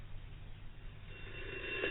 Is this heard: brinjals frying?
no